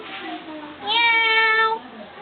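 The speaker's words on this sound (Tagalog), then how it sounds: "Baka may pusa." A cat meows once, a drawn-out, clear, nasal cry lasting close to a second, preceded by faint child chatter nearby in a home setting.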